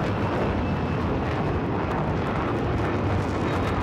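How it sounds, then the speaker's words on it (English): Enemy helicopter in the video game Battlefield 4, a steady loud rotor-and-engine roar filling the whole stretch with constant broadband rumble, no pauses. "Oh, they've got a helicopter right now."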